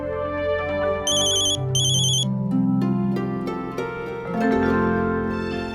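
A melodic phone ringtone plays alone, a bright tune with two quick trilling bursts early on, steady and close.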